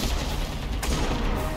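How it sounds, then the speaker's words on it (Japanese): Close gunfire in the World War II shooter game Enlisted, a dense crackle of rapid shots and booms rolling continuously with one sharper burst in the middle, heard without talk. "銃声めっちゃ近いなーなんて思ったら結構来てますね。"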